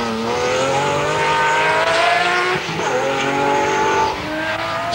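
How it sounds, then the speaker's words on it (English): A Lamborghini Murcielago with all-wheel drive laps a race track: a loud, close engine holds a high, shifting note while the tires squeal continuously through the corners. "Thanks to all-wheel drive, the Murcielago circles the course in quite a good-natured way."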